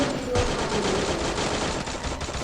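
Rapid automatic gunfire in a video game, a dense continuous rattle of shots that stays loud throughout with a brief sharper burst near the start.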